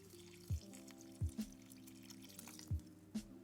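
A thirsty monstera adansonii houseplant is watered indoors, with four soft, evenly spaced drips and splashes over a quiet room hum.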